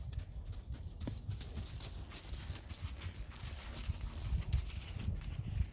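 A horse moves at a working walk during a riding clinic, its hooves clip-clopping in a steady, close rhythm over low rumbling background noise.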